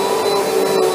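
A Shark Apex upright vacuum cleaner runs close by with a loud, steady motor whine and airflow rush, unbroken for the full second.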